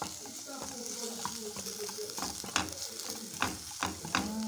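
Garlic sizzles and fries in melted butter in a pan while a utensil stirs it, with steady crackling broken by several sharp scraping strokes; close and moderately loud, no talking.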